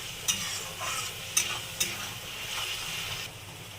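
Raw onion paste sizzles steadily in a pan for a prawn malai curry, with a few sharp utensil scrapes and clinks breaking through the constant frying hiss.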